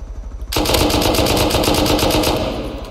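Sustained automatic rifle fire from the survival game Rust, a loud continuous burst of rapid shots that starts abruptly after a brief quiet moment and runs unbroken to the end.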